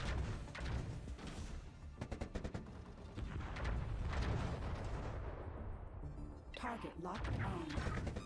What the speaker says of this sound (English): Oh yeah, eat my lasers and stuff.